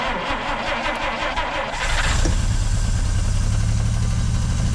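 A 1950 Dodge Meadowbrook's engine is cranked over with rapid chugging pulses, catches and settles into a loud, steady rumbling idle up close.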